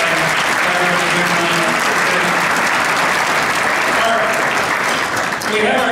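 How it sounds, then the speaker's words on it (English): Loud, sustained applause from a room full of people at a Junior Chamber event, continuous hand-clapping throughout with some voices mixed into the crowd noise. "just a round of applause for everybody in the room"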